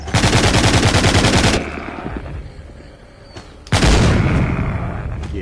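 A Gatling gun in The Walking Zombie 2 video game fires in loud, rapid sustained bursts, cutting out briefly to a quieter stretch before another dense burst of fire starts up.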